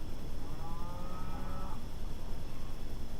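A cow moos once in a drawn-out tonal call against a steady, noisy background hiss, fairly faint and mid-distance, with no talking.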